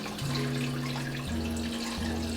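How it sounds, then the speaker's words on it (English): Water pours in a steady, rushing stream into tomato sauce in a kitchen, the pitch of the pour shifting as it goes, continuous and close. "To the tomato sauce, you're going to add water."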